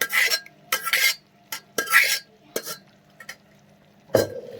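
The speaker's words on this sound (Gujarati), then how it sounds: "દાળને સરસ વઘાર સાથે મિક્સ કરી લઈએ" A spoon stirs dal into tempering in a pot, giving short scraping strokes and clinks in uneven bursts with quiet gaps between, close and fairly loud.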